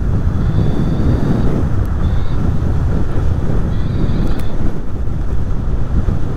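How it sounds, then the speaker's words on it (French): Heavy wind roars steadily across the microphone while a Dualtron Thunder III electric scooter is ridden, a loud unbroken rumble with slight gusts lasting several seconds and no speech. "C'est ouf le vent qu'il y a quand même hein."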